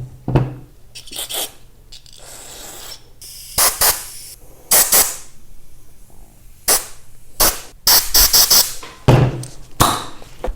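Bursts of aerosol cleaner blasted into the jets and ports of a Ryobi BR42 backpack blower carburetor, loud hissing sprays of a second or so each, repeated in an uneven rhythm with quiet handling noises between.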